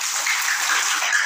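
A crowd claps steadily through the whole stretch during a school event where a wall magazine is being unveiled, a dense and even round of hand-clapping with no pauses and no talk above it.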